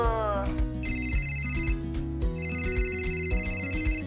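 A telephone rings with a repeating electronic ringtone melody, loud and close, playing steadily throughout with no speech over it.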